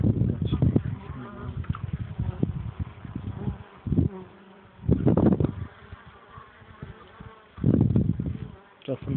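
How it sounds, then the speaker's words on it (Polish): Honeybees swarm at the entrance of a hive, some carrying pollen, making a close, continuous buzz that swells in louder surges as bees fly past. "Czasem jakaś pszczoła z pyłkiem."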